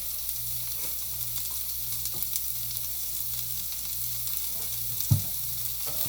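Constant sizzle of carrots frying in a pan, a steady crackling hiss with a low hum beneath and one brief clunk near the end.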